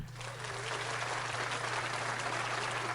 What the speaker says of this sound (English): it's a golf clap for the MAC